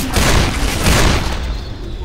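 Bombing explosions at an airport in Left 4 Dead, a loud, close, rumbling blast with crackling debris that rolls on and slowly fades.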